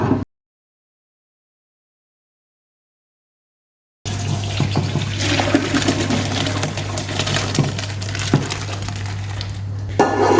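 Cooked rice ada for ada payasam is poured with water into a strainer; after a few seconds of silence comes a steady, close rush of splashing, trickling water that continues to the end.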